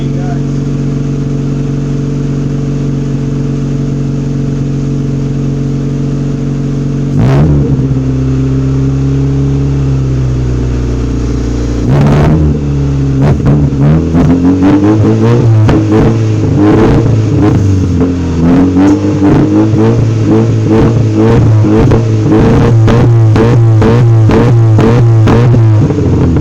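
A Honda Civic fitted with a Thermal R&D side-exit muffler idles loudly, then is revved: one sharp blip, a second rev, then a fast run of rapid throttle stabs, close and raw with no talk over it.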